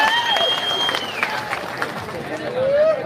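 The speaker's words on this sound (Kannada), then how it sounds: "ಅವ್ರ ಸೈನಿಕರಿಗೆ ಚಪ್ಪಾಳೆ ಹೊಡಿರ" An audience at a farmers' protest gathering claps for soldiers, a sustained ripple of applause from a crowd heard alongside whistles and background chatter.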